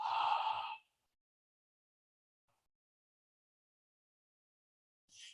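A single strong exhale blown out through the mouth as a breathing exercise, heard close and breathy at the start, followed by silence and the start of another breath at the end.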